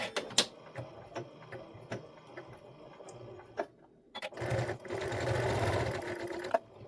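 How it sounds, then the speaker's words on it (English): A sewing machine stitches a Read to Me Cuddle Kit fabric project, locking the stitch at the start. A few sharp clicks and short runs come first, then a loud, continuous whir of stitching. "So we're going to lock our stitch at the beginning."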